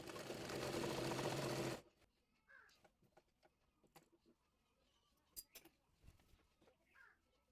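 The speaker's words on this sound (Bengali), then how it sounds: "আমি এখানে চাপ সেলাই দিয়ে নিচ্ছি।" A sewing machine press-stitches a salwar, one rapid whirring run of under two seconds, close and loud, then stops, leaving quiet room sounds with scattered clicks and a distant bird call.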